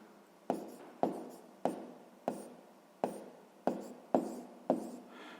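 Hand-writing a sixth-grade math solution: nine sharp, evenly spaced pen strokes land roughly every half second, each tapering off in a brief scratch, close and clear with no talking.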